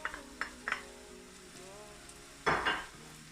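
Ginger and garlic crushed together dropping into a hot frying pan for rougail saucisse, giving a loud burst of sizzle near the end after a few soft clinks and stirring sounds, close by with no talk.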